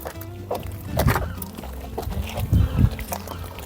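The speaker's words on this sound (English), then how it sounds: "Get your leather, give it a wash, slop it on." A wet washing leather is sloshed and slapped onto the paintwork of a Bentley Continental GT during a jetwash clean, giving several close, soft splashy slaps with a louder burst near the end and no talk.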